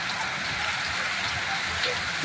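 Moderate rain that began as a drizzle falls at a four-road crossroads junction in Kalluru, giving a steady, close, broadband hiss throughout, with faint speech-like sounds mixed beneath it.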